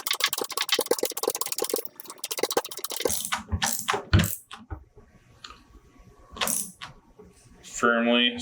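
A ratchet tightens the fastener on a replacement drive wheel of a Malco metal roofing seamer: about two seconds of rapid, close clicking, then scattered metallic clanks and handling noises.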